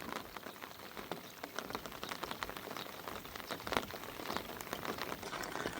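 Steady rain falls on surfaces during an all-day downpour in rural Thailand, a soft, even patter of drops close by with no voices.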